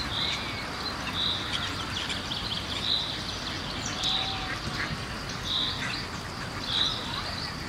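Bird song with repeated bright chirps roughly every second or so, ringing over a steady outdoor wash of ambient noise with ducks and distant traffic possible in the mix, no voices.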